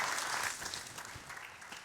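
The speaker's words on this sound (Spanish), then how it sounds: "Dale un fuerte aplauso al Señor." Church congregation applauding during a Spanish-language Easter service, a broad, even patter of many hands, fairly faint and distant, continuing steadily without talk.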